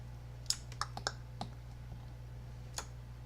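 Computer mouse clicks, several quick faint ticks in an irregular cluster followed by one more after a pause, over a low steady electrical hum in a quiet room.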